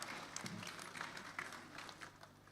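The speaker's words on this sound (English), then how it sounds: "Please give him a round of applause." A conference audience at a Nigerian Society of Engineers AGM applauds for an honored past president, a soft, steady wash of distant clapping lasting a couple of seconds with faint room noise and a low hum underneath.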